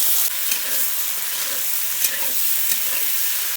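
Ridge gourd and potato sizzle and fry steadily in a pan, with a dense continuous hiss broken by a few soft stirring scrapes, close and alone.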